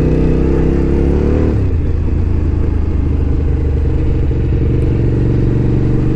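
A Suzuki TL1000R motorcycle engine is loud and close, with a steady mechanical whine and whir over a deep rumble, and the engine note drops after the first second and a half.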